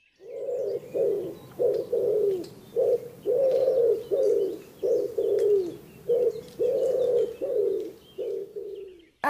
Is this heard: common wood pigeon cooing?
yes